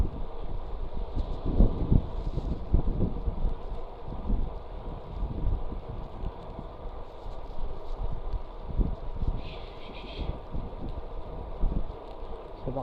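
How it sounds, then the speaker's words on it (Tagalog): Heavy, gusting headwind buffeting the microphone while cycling, in low, rumbling bursts, steady and close throughout. "Salubog tayo sa hangin eh, kaya ang bigat pumidal."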